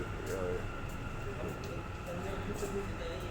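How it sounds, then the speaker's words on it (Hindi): Delhi metro train at the underground Aerocity station, a steady rumbling hum with rail noise under continuous talk. "मेट्रो ओके आ चुका है, ऑलरेडी आ चुका है गाइस"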